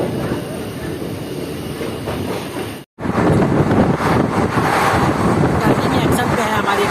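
Jaynagar–Samastipur passenger train running, a loud continuous rumble and rattle of rail cars heard from on board, with a brief dropout partway through before the steady roar resumes.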